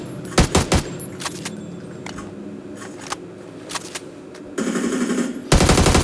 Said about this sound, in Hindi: फिर गोलियाँ चलने की आवाज़ आती है